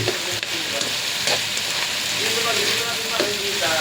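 Large onion slices and garlic frying in a pan, a loud continuous sizzle with scraping stir sounds and occasional clinks of a utensil, steady and close.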